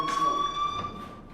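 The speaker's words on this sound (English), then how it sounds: "Hey, do you hear that fire alarm? That means you should be outside." A fire alarm rings in Life is Strange, a steady high electronic tone with a bright harmonic buzz that carries on throughout while a voice speaks over it.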